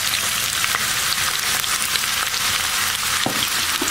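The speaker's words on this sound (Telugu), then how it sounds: "ఆవాలు, మెంతులు వేగాక సన్నగా తరిగి పెట్టుకున్న ఉల్లిపాయలు వేసుకుని వేగనివ్వండి" Sliced onions frying in oil with mustard seeds and fenugreek for fish curry, a constant close hissing sizzle with occasional light crackles and stirring clicks, no voices.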